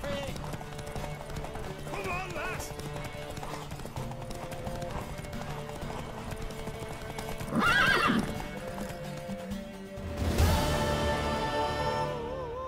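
A horse gallops in The Witcher 3, its hooves clip-clopping steadily and up close, and loud whinnies rise partway through over game music and voices.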